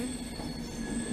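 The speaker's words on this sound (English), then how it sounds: "390 Pendolino, bound for London Euston, leaves" A Class 390 Pendolino bound for London Euston pulls out of the platform, its wheels giving a sustained high metallic squeal over a low rumble.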